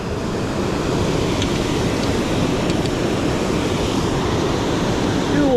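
River water rushes beneath a spillway in a steady, broadband roar that fills the scene close by, continuous and unchanging throughout.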